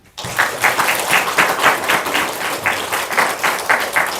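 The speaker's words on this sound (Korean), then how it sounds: "박수 한번 주세요." A church congregation at a Sunday service applauds the standing Sunday school teachers, loud close-up clapping that starts abruptly and keeps going in slightly rhythmic surges.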